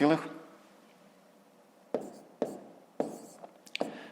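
A pen writes numbers for a fifth-grade decimal subtraction problem, giving several short, close scratching strokes in quick bursts after a brief murmur of voice at the start.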